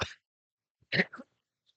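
A single short, sharp sneeze-like burst, preceded by a brief faint noise, in an otherwise quiet room.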